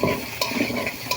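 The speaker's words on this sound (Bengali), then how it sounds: "আলুগুলো ভালো করে ভেজে নেব।" Potatoes fry in hot oil with a steady close crackle and a few spoon scrapes across the pan, brief and continuous without any talking.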